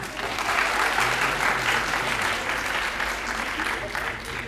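A large audience at a Basant Panchami college celebration claps steadily, a dense, even wash of applause lasting throughout with no break.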